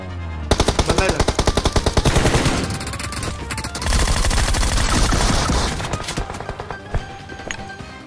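Rapid automatic gunfire in a mobile battle royale shooter, a loud close burst of evenly spaced shots followed by more chattering fire and scattered single shots, with occasional game sounds between them.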